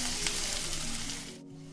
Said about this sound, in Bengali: সেই জন্য আমি এটা ভালো করে একটু ভেজে নেব